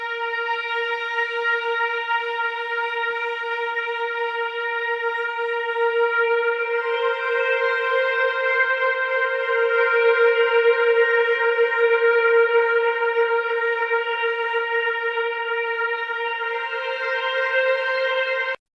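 Synth pad using the BL Medicine Man preset, played alone: a sustained, smooth tone with rich stacked harmonics that swells slightly midway and holds steady to the end, no voices.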